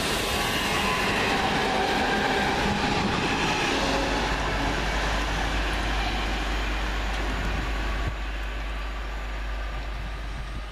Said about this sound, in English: just now departing the 10:12 London Midlands service from Redditch to Lichfield Trent Valley via Birmingham New Street